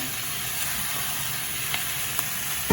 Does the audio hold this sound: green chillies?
yes